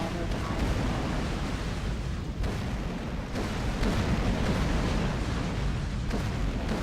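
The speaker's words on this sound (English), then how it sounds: "The explosion sound, I don't know what's with the sound engine in this game" Heavy explosions in the space game X3: Terran Conflict boom one after another, a dense, continuous roar of blasts filling the whole stretch.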